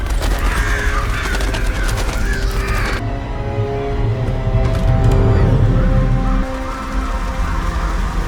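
Birds caw harshly in a scene from the series The Boroughs, with repeated calls over a steady hiss like rain or wind and no talking.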